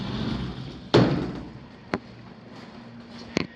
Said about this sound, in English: Sliding doors.